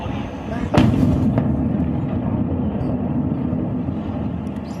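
In Caracas, a strike explosion sends one sharp, loud boom, followed by a fainter second thud and a lingering low rumble of distant noise.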